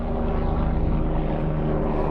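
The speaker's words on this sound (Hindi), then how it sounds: "ये है ऊपर एक हेलीकॉप्टर जा रहा है" A helicopter passes overhead near Castle Aragonese in Ortona, Italy, a loud, continuous rotor and engine roar that fills the whole moment without talk.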